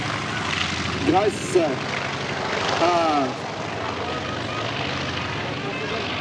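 Engine drone of a WWII Luftwaffe aircraft at the Cambrai air show, a steady broadband roar running throughout, with a narrator talking over it for the first half before the roar continues alone.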